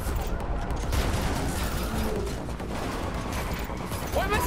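Rapid gunfire from The Matrix Awakens Unreal Engine demo on PS5, a continuous dense barrage of shots and mechanical clatter, loud and close, with brief excited vocal sounds mixed in.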